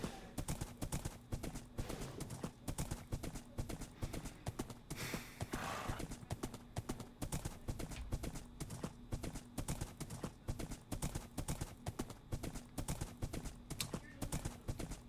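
Horse hooves clip-clop steadily in a video game, an even, quick rhythm of hollow knocks running the whole way through, fairly quiet, with a short rushing swell partway.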